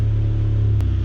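A Ford Ranger pickup idles just after a cold start, a steady low rumble with a faint periodic rattle running through it.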